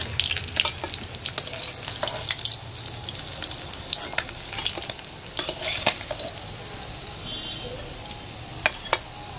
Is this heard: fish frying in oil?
yes